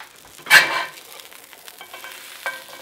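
A burger patty hits the hot pan after being flipped, a brief loud sizzling burst close up that quickly settles into faint crackling and spitting, ending with another short flare.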